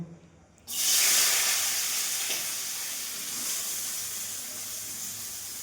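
Chopped onion hits hot oil already crackling with cumin and mustard seeds, bursting into a loud, steady sizzle that holds for several seconds after a quiet start.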